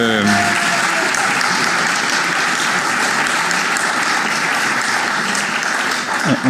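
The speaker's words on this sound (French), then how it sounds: "Vous pouvez les applaudir." Applause filling the chamber of the Paris city council during a session, loud sustained clapping from many people, with a brief tonal sound at the start and a slight dip near the end.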